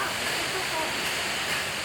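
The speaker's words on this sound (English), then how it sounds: "the rain is getting way too heavy" Heavy rain pours down around a roadside warung in Sidemen, Bali, a dense, steady hiss that fills the whole clip at constant loudness with no pauses.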